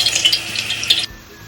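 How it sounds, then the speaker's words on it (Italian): Eggplant matchsticks hit hot seed oil, giving a bright, loud sizzle for about a second before it cuts off abruptly. "L'olio di semi è a temperatura, possiamo andare a friggere i nostri fiammiferi di melanzana."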